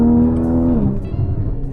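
A 2016 Porsche Boxster GTS engine blips up sharply on a manual downshift, a loud close rev that holds briefly and then falls away to a lower rumble.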